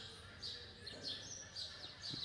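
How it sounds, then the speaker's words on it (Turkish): Sparrows chirping outside a studio, a few thin, faint, high tweets repeating in short bursts against a quiet room background. "Stüdyoda hayvanca öten, stüdyonun önünde hayvanca öten serçeler."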